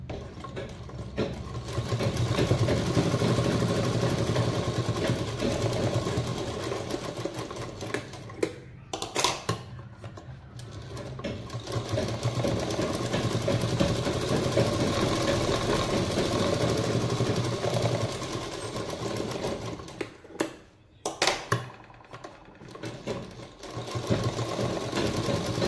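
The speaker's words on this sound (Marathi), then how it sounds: "आता ह्याच्यावर पुन्हा एकदा शिलाई मारून घ्यायची." A sewing machine stitches a purse in long continuous runs of steady mechanical whirring, close and loud, broken by two short pauses and no talking.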